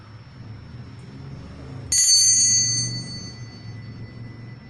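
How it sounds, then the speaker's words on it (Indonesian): A single bright bell strike rings out close and clear over a quiet room tone, then its metallic shimmer decays over about a second. "ditandai dengan lonceng berbunyi"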